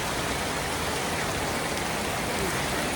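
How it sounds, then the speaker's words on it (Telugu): Heavy rain falls steadily during a ride out of Vidyanagar, a dense and constant hiss that fills the whole clip with no breaks and no voices. "ఫుల్ వర్షం"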